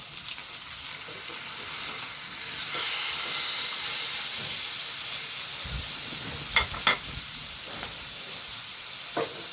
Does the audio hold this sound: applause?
no